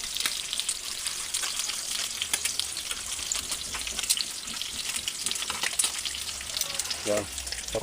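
Saluyot jute leaves fry in a pan with bamboo shoots and smoked fish, a continuous close crackling sizzle with scattered pops and spatters throughout.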